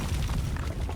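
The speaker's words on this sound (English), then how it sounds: "That was some explosion." A thrown explosive detonates in the horror game Amnesia: The Dark Descent, a deep, rumbling boom filling the whole moment, heard alone without talk.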